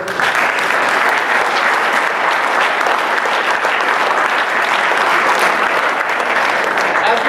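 An investor round table crowd gives its board a round of applause, a full, continuous wash of clapping that holds steady and close for several seconds.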